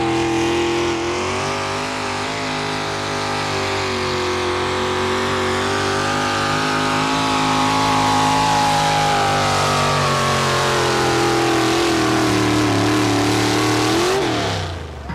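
A Chevrolet truck engine roars at high revs through a vehicle pull competition run, loud and sustained with a slowly shifting pitch, then cuts off abruptly near the end.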